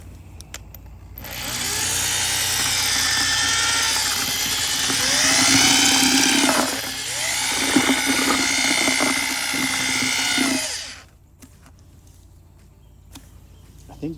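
A power drill fitted with a stirring paddle churns plain mortar in a bucket, a loud continuous whine with shifting pitch as the load changes, running about ten seconds before cutting off.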